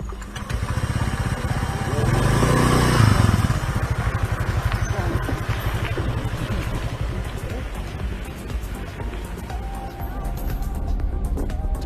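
A rented scooter rides along dirt roads in Iceland, its small engine humming steadily with a rough mid-pitched drone and continuous road and wind noise throughout.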